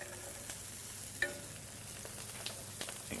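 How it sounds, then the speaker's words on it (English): Onions sizzle after being dropped into a hot pan while cooking for a paleo zucchini pie. A soft, continuous frying hiss is heard close by but faint, with a few light clicks and scrapes. "so I'm just going to chuck in the onions"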